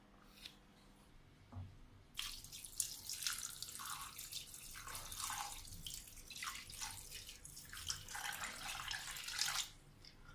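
Freshly dyed fishing-net thread is rinsed by hand in water, with sustained sloshing, splashing and dripping up close that ebb and surge for several seconds.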